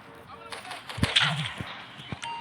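Video game gunfire in a modded GTA San Andreas, a few sharp cracking shots spread over a couple of seconds amid busy game noise, with one louder close shot near the middle.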